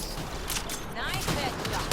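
Several sharp gunshots ring out in Mass Effect Andromeda, irregularly spaced over a couple of seconds against a dense, constant backdrop of in-game ambience and effects.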